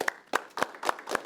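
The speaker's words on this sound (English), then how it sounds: "Everybody can clap together" Five evenly spaced claps from a group audience in unison, sharp and fairly close, with short gaps between each burst and no talking.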